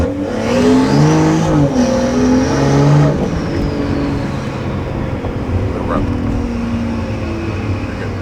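A BMW M340i on coilovers rolling at speed, its engine and road drone loud and close, with pitch sweeping up and down early on before settling into a steady hum.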